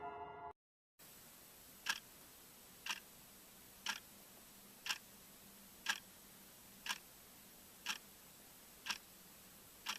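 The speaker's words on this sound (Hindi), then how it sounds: "उसने देखा एक पुरानी घड़ी आवाज कर रहा था।" An old clock ticks in a Hindi horror cartoon set in a haunted mansion, with about nine sharp, evenly spaced ticks roughly one second apart over a faint steady hiss, with no speech.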